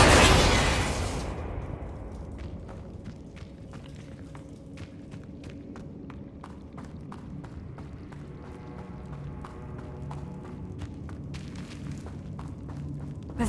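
A Bombarda spell detonates in Hogwarts Legacy with a loud, sharp burst at the start that rolls off into a fading rumble, followed by quieter scattered clicks and light steps.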